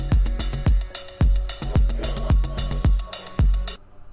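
A music track has punchy, booming kick hits in a steady beat under sparse tonal layers, loud and close, then fades at the end.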